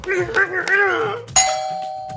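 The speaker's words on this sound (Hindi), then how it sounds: "अरे फोन नहीं आया, दरवाजे की घंटी बज रही है" A doorbell at a house rings once with a clear electronic ding that sustains to the end, following a stretch of voices talking indoors.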